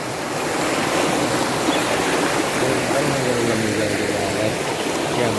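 Rainwater from a burst storm-drain embankment after heavy rain rushes in a steady, loud broadband roar of flowing water with no pauses, close to the listener and alone.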